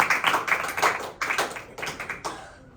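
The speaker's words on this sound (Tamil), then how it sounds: "கைத்தட்டி ஆண்டவரை மகிமைப்படுத்தலாமா?" A church congregation claps together in a rhythmic series of clustered claps, moderately loud and close. The clapping runs steadily before fading out at the end.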